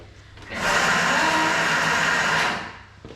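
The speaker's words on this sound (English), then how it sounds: "So our turbo is that really fast, hard chopping." A food processor runs in turbo mode at top speed, chopping hard: a loud, steady motor whine rises abruptly, holds for about two seconds, then cuts off.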